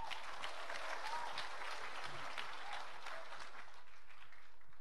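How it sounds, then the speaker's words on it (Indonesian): A church congregation claps for the worship team, a soft, even patter of many hands sustained throughout with no pause, fairly distant and low in level. "Kita beri tepuk tangan."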